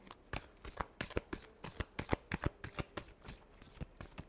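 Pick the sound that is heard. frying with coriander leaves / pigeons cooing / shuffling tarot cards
shuffling tarot cards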